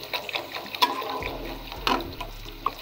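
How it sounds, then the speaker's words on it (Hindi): Water is poured into a rice pot in a home kitchen, a splashing, gurgling stream with a few sharp clinks of metal, moderately close and without talk. "एक लीटर इसमें हम डालते हैं पानी"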